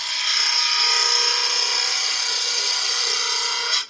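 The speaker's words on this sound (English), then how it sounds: "we're going to run the skew along the edge, using the bottom third of the tool just to give us a nice clean finish" A skew chisel shears along turned wood spinning on a lathe while making a hanging bauble: a loud, steady, hissing cut lasting several seconds that stops abruptly, with no talking.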